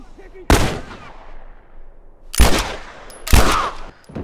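Three loud, booming sniper rifle shots in The Last of Us Remastered, in the suburbs, each a sharp crack with a decaying tail, spaced a couple of seconds apart.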